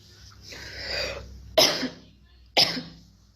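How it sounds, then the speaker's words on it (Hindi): Two sharp, harsh coughs from two people, about a second apart, after a softer breathy stretch, attributed to pollution; close and loud with no talk. "खांस रहे हैं दोनों।"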